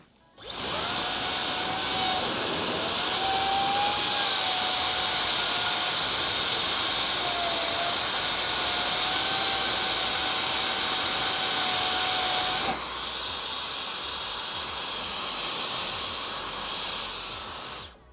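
A Dyson Supersonic hair dryer blows on cold air, a loud, steady close-up whoosh with a high whine that carries on unbroken, shifting slightly in tone partway through before cutting off.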